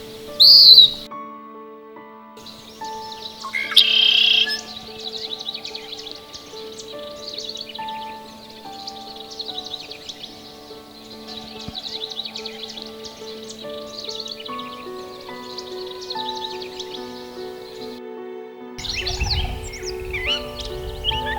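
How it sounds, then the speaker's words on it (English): Many nesting wild birds of several species singing outdoors in spring on rural land, a layered chorus of sustained whistles and chirps carrying from near and far, with no talk. "There's probably 40 nesting birds here, 40 species at least."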